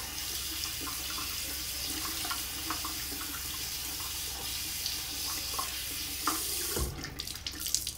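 Cold water running from a tap into a sink, a steady close splashing stream, with a brief disturbance near the end as something moves through the flow.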